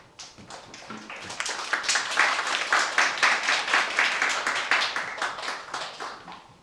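Applause at a Korean startup-support seminar as a team leader is brought on stage: dense, steady clapping from a roomful of people that swells quickly and holds level for several seconds.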